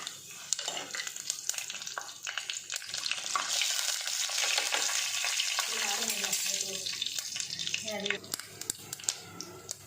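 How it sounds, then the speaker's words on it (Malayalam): Mustard seeds, dried red chili, star anise, cloves, cardamom, cinnamon and fennel frying in hot oil for a Kuttanadan duck curry, giving a continuous close crackling sizzle with sharp pops and brief speech-like sounds mixed in. "കടുക് പൊട്ടി കഴിയുമ്പോഴത്തേക്ക് വറ്റൽമുളകും നമ്മുടെ ഗരം മസാല പാക്കറ്റിൽ വരുന്ന തക്കോലം, ഗ്രാമ്പു, ഏലക്ക, കറുവേല, പെരുംജീരകം എല്ലാം കൂടിയിട്ട്"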